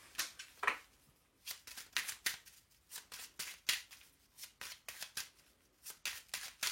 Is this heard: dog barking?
no